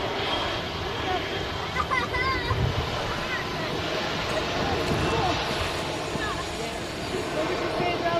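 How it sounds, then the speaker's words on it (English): A jet airliner departs Manchester Airport with a broad, rushing engine roar that swells and wavers steadily, mixed with wind buffeting the microphone and a voice talking faintly underneath. "You guys can appreciate some fantastic jet noises now"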